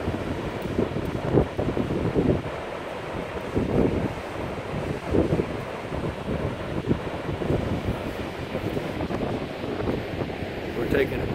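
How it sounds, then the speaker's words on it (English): Pacific Ocean surf rolling in at a long beach at Ocean Shores, Washington, with wind buffeting the microphone; waves surge in soft repeated swells under a faint, intermittent voice. "This is our Pacific Ocean."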